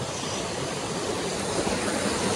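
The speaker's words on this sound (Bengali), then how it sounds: "এই যে দেখেন ঝর্ণার কি সুন্দর শব্দ।" Khaiyachora waterfall pouring down onto rocks, a loud, dense, unbroken roar of falling water that fills the whole stretch with no voices.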